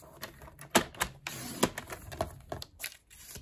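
Cardstock pieces are cut for a stamped card, heard as a close series of sharp, irregular clicks and snips over quiet background, with no talking.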